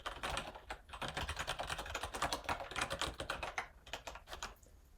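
Rapid, steady typing of code on a computer keyboard, a dense run of close, quiet key clicks with brief pauses and no voices.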